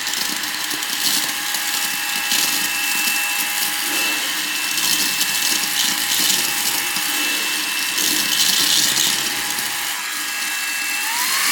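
A Xiaomi Mi Vacuum Cleaner Mini runs in standard mode, giving a steady, close, high-pitched motor whine with an airy rush that holds evenly throughout, with no speech.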